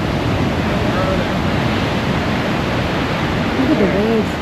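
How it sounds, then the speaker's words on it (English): Ocean waves crashing on rocks along the coast of Manuel Antonio National Park, Costa Rica, in the rainy season: a loud, steady broadband roar, with voices briefly talking over it near the end. "Look at the waves."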